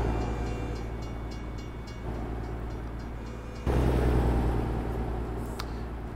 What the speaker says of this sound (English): They have a train in the distance